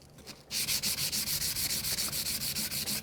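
A Takeda kitchen knife is sharpened on a whetstone with steady back-and-forth strokes, a rhythmic gritty scraping about five or six passes per second, close and loud after a brief quiet start.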